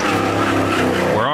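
A 2016 Dodge Hellcat with 712 horsepower doing donuts in the middle of a downtown street, its engine roaring in a loud, continuous rev with a rising pitch sweep near the end.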